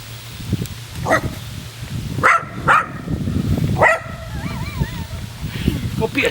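A dog chasing bubbles lets out several sharp barks and yips with some whimpering, close by, while a person talks over it.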